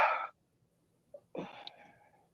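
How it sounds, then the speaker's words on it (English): A short, breathy nose blow, then a pause and a second, longer snuffling blow that trails off, close and fairly quiet. "Had to blow my nose."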